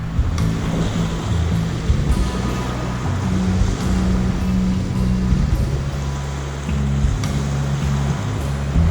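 Steady ocean surf washing onto a beach in Tasmania, a loud continuous rush of breaking water close by, with a low rumble running underneath and no talking.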